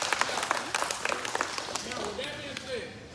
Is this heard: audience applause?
yes